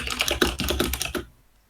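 Rapid clicky computer keys tapped in a quick close burst of about a dozen strokes, stopping abruptly into silence, with no voices.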